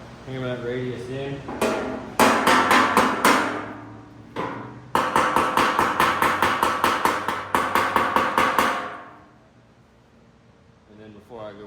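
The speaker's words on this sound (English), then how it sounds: "So I just hammer that radius in." Rapid, ringing hammer strikes shaping a radius in sheet metal for a custom car wheel tub, in three quick bursts separated by short pauses, loud and close, fading into quiet.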